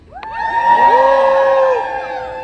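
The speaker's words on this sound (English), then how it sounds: "give a warm hand of applause for Alex from Bronx Community College and Rankin 5" A rally crowd outside the NYC mayor's State of the City address cheers and whoops as the next speaker is welcomed, loud sustained shouting that swells and then slowly fades.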